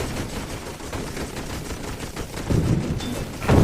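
Machine gun fire from the video game Toy Soldiers, a dense, continuous rattle of rapid shots that grows louder and heavier toward the end, with no talk over it.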